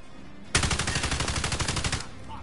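Rapid automatic gunfire from the Call of Duty Warzone video game, one loud sustained burst of about twenty evenly spaced shots lasting roughly a second and a half, then stopping abruptly.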